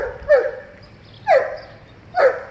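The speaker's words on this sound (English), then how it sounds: "she's distracted by the dog, but not that much" Three sharp barks from a nearby dog, evenly spaced about a second apart, loud and clear against a quiet background.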